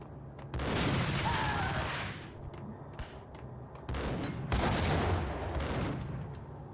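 Ingram submachine gun firing in the video game Max Payne: loud, dense bursts of rapid automatic fire with a brief lull in the middle, then another sustained burst.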